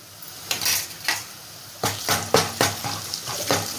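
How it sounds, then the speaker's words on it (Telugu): Ginger being fried in a pan while cooking an ash gourd curry, with a series of sharp metallic clinks and scrapes of a spoon against the pan over a faint background sizzle. "ఇప్పుడు అల్లం పసుపు ఫ్రై అయింది"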